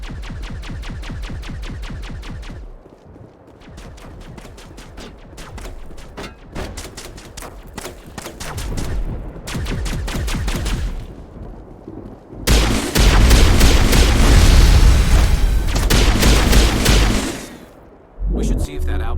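Sustained gunfire crossfire in a Mass Effect battle, sharp repeated shots in bursts across the scene and swelling into a dense, loud barrage near the end, mixed with booms and talk.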